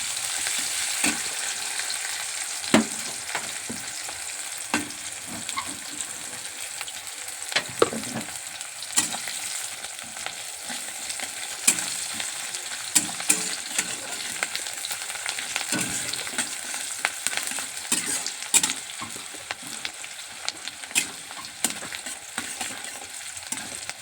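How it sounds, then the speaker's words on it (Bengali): Onions frying in a pan with a steady hiss and sizzle, while a spoon stirs and scrapes through them in irregular clinks and taps, near and continuous with no talking. "পেঁয়াজটা ভালো করে লাল করে নেব।"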